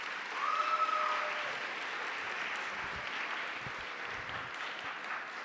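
A welcome-day audience at Brown claps in a steady, even wash of applause that holds for several seconds, moderately loud with a brief whistle-like tone near the start.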